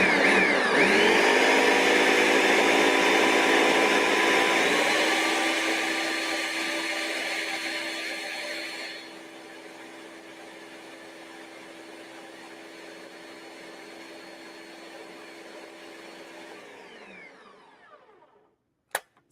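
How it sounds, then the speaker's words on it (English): A Vitamix blender running at full power, a loud steady motor whir that drops to a lower, quieter drone partway through and then spins down to silence, ending with a faint click. "not to make a commercial for Vitamix, but it will crush strawberry seeds, pulverize them."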